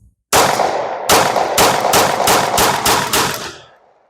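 Seven loud, close gunshots from a 1911 pistol fitted with a budget compensator, fired outdoors at a shaded range, in a quick irregular string with a ringing tail.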